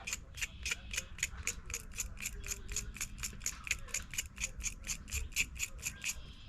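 The end of a fig cutting is scraped in quick, even strokes, about three per second, producing crisp rhythmic scratches close by over a low background hum, with no talking.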